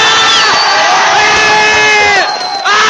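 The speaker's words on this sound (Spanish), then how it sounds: "¡Un aplauso para esta pareja que está" Loud crowd cheering in a Free Fire game, a dense, continuous roar laced with rising and falling whoops that dips briefly near the end before swelling again.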